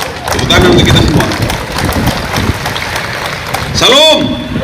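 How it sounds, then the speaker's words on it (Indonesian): Crowd applause at an outdoor flag ceremony in the courtyard of the NTT provincial governor's office. A loud, dense wash of clapping is heard, with a brief amplified voice tone near the end. "Tepuk tangan untuk kita semua."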